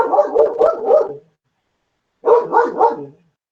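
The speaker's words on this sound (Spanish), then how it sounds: "Sí, está mi perrita ladrando." A small female dog barks in two loud, close bursts of three or four quick yaps each, separated by about a second of silence.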